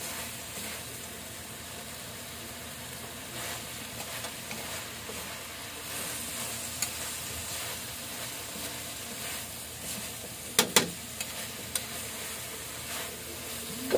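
Tofu fries in a pan as a steady, gentle sizzle that carries on throughout, broken by a few sharp clatters and pops near the end.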